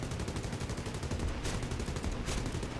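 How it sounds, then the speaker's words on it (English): Bomber gunners firing machine guns in the War Thunder video game, a continuous rapid rattle of fire with two brief louder bursts, heard over steady engine roar. "He's a bomber, so he's got gunners that are shooting at me."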